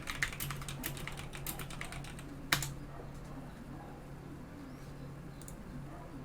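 A burst of rapid keystrokes on a computer keyboard in a quiet room, then one sharp key clack, followed by near silence with a few faint taps.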